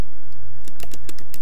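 Someone types on a computer keyboard: a loud burst of quick, uneven key clicks, close and alone, with a brief hum before the keystrokes begin.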